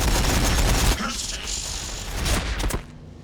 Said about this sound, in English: Las cannons incoming.